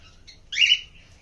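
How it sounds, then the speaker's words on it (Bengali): A caged cockatiel gives one short, bright chirp after a couple of faint tweets, alone in a quiet room. "এগুলো ককটেল"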